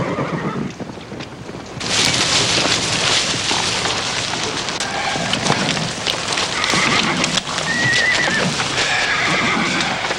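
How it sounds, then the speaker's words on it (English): A string of horses in a western TV series whinny and clop their hooves against a steady rain-like hiss, loud and close throughout. "That's Frank Cole with his string horses."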